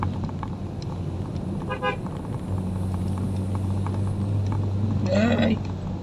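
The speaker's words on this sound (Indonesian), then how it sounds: "harus siap-siap sering-sering membunyikan Klakson" A car horn toots on a narrow, remote village road in Wonosalam, East Java, sounding in a few short bursts over a steady engine rumble, with people talking in the vehicle.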